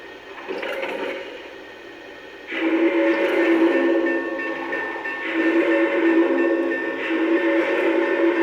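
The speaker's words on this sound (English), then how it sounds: "take this both of these locomotives for a spin" Two Lionel brass hybrid Challenger model train locomotives rumble and hum steadily with a droning engine tone that swells after a few seconds, sustained throughout without speech.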